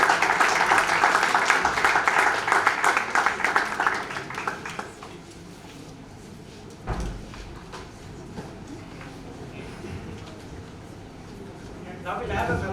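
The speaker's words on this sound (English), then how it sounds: "Round of applause." An indoor audience at an anniversary celebration claps for several seconds; the applause is dense at first, then fades into room noise with a brief knock.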